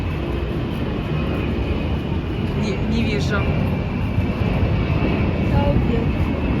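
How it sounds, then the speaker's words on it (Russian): An airplane takes off somewhere nearby along the Dzhemete coast, a broad steady roar of jet engine noise filling the background while a person speaks briefly over it. "О, самолет где-то взлетает опять."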